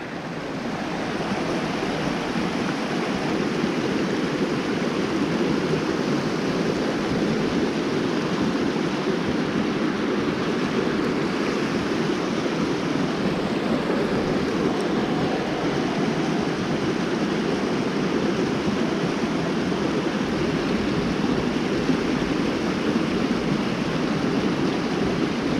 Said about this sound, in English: Nice big pool over here with a little brook coming in.